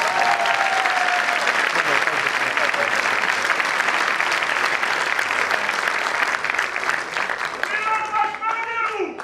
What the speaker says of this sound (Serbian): Dajte jedan aplauz veliki za njih.